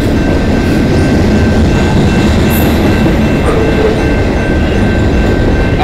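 Locomotive GECX 2037 hauls a train past on the Dundas subdivision in London, Ontario, a loud, close, continuous roar of rolling wheels and rail clatter with a thin squeal running through it.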